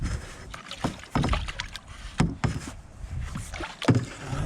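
A canoe paddled on a cattle pasture pond, with irregular splashes and drips of the paddle dipping and pulling through water, close by and uneven in rhythm.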